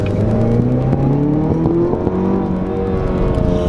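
A 2017 Camaro with a 2.0L turbo four-cylinder pulls hard under acceleration, its engine note rising steadily in pitch for a few seconds, loud and close from inside the cabin with no talking.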